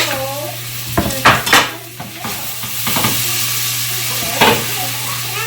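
Sliced onions sizzle in a hot pan for a short stretch, a steady background fry with a low hum beneath, while a utensil clinks and scrapes against the pan in a few distinct knocks.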